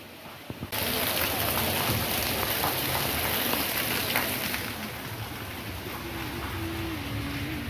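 Rain falls steadily while a bus is stopped, a broad, loud hiss of drops that starts abruptly and stays dense, easing slightly later over a faint low tone.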